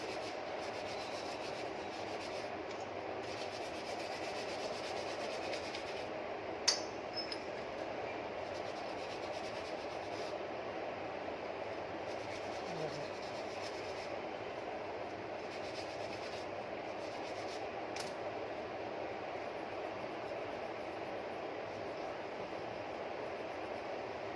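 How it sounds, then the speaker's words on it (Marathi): Brass idols scrubbed with Pitambari polish during a home puja, giving a steady, continuous close rubbing and brushing hiss with one brief clink near the start and no speech. "छानपैकी पितांबरी मस्त मूर्त्या घासून घेऊ."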